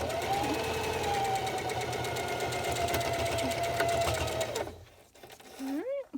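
A sewing machine stitches a double-layer cloth face mask in a fast, steady mechanical whir, running close and continuous for several seconds before stopping, with a voice speaking briefly afterward.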